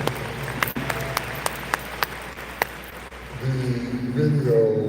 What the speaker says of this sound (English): Give the foundation a big round of applause.